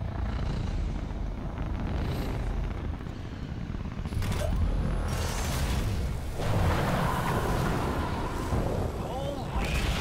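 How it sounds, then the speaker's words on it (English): Tanks fire explosive shells in Raiders of the Broken Planet, producing a dense, loud wall of rumbling blasts and booming impacts that continues without pause, with heavier surges partway through. "they have tanks shooting at his house"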